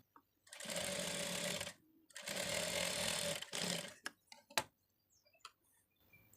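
A sewing machine stitches the lining of a blouse sleeve in two long, even whirring runs. Each run lasts about a second, with a short pause between them, and a few light clicks and taps follow.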